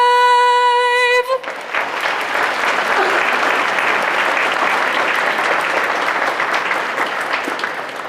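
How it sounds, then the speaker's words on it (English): An audience in an awards-ceremony hall bursts into sustained, loud applause right after a singer's final sustained note of the national anthem, the clapping steady and dense for several seconds before slowly thinning. "Let's give Francesca another round of applause."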